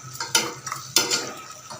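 A spoon scrapes and stirs mutton with salt and turmeric in a pot, giving a couple of sharp metallic strokes among softer rustling scrapes, close and short.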